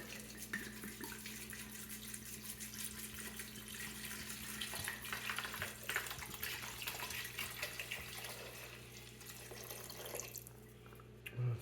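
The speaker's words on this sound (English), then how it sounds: "pour your wine." Red wine pours from a bottle for making glögg, a steady liquid stream trickling and splashing for several seconds before it trails off.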